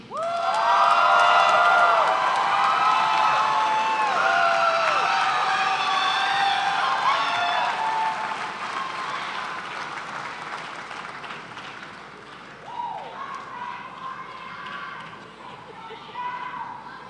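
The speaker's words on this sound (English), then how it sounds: "give him a round of applause" Graduation audience breaking into loud applause and cheering, with whoops and shouts in the first half, then the clapping thins and fades into a quieter murmur of crowd noise.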